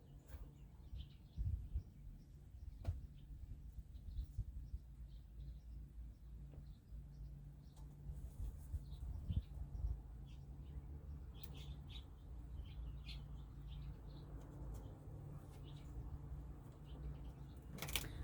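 Birds chirp and tweet in scattered short calls outdoors, with a low rumble of passing traffic underneath throughout.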